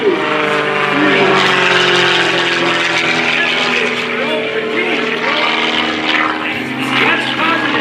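A propeller aerobatic airplane performs at an airshow, its loud engine droning close and continuous with shifting pitch as it maneuvers overhead throughout.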